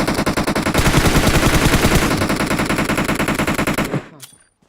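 Automatic gunfire in the PUBG Mobile video game, a loud, dense burst of rapid shots lasting about four seconds before cutting off abruptly, with no talk over it.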